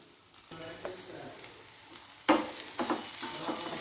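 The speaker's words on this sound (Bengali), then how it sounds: "দেখুন মাছগুলো কিন্তু ভাজা ভাজা হয়ে গিয়েছে একদম" Bhetki fish sizzles in hot oil in a pan, a quiet hiss at first that jumps into a louder, crackling fry as pieces hit the oil, continuing steadily afterward.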